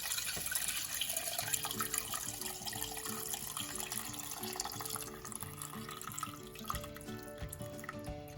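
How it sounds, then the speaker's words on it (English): Pot roast juices pour steadily through a strainer in a home kitchen, a continuous close liquid stream and trickle lasting several seconds, with no talking. "we're going to be taking those juices and we're going to be putting it through a strainer"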